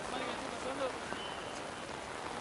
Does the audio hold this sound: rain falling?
yes